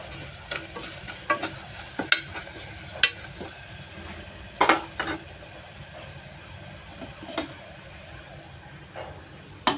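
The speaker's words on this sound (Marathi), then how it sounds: "थोडी हळद, पाव चमचा गरम मसाला घालून परतूया." Quiet sizzling of turmeric and garam masala in a pan punctuated by a handful of sharp spatula scrapes and clacks at irregular intervals, close up and without talk.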